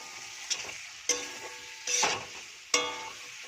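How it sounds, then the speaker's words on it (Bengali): Fried egg and potato sizzle as they are stirred into cooked-down masala for a Bengali-style egg and potato curry, a soft close hiss punctuated by four distinct scraping stirs with crackling bursts. "এবার ভেজে রাখা ডিম আর আলুটা দিয়ে দেব। দিয়ে একটু ভালো করে কষিয়ে নেব।"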